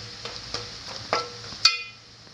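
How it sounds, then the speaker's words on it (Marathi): Homemade Malvani garam masala sizzles softly in a hot pan as it is stirred, with a few sharp spoon clinks against the pan and no voices. "व्यवस्थित मिक्स करून घ्यायचा आपल्याला।"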